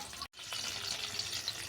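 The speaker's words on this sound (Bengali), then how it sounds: "এবার আমি মাংসের আলুটাকে ভেজে নেব।" Potatoes for a meat curry frying in oil in a home kitchen make a steady, soft crackling sizzle, briefly cut off near the start and then continuing evenly, with no voices.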